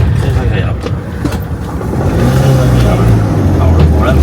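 A car drives fast past a calm camping-car park beside a small stream, its engine rumble rising into a low, loud drone as it approaches close by, with people talking over it.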